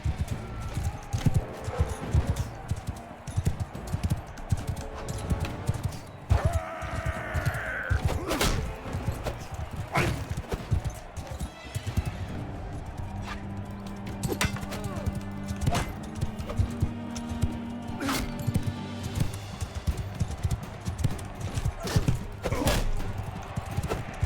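A horse gallops in the video game Mount & Blade II: Bannerlord, with steady clip-clop hoofbeats running through busy battle noise while someone talks over it.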